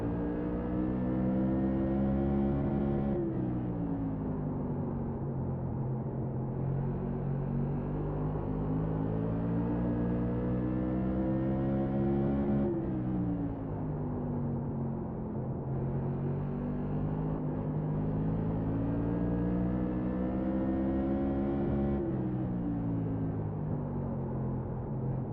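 NASCAR Tour Modified race car at Stafford Motor Speedway in iRacing, a loud continuous engine drone that rises and falls in pitch with each lap's acceleration and lift-off, steady and close.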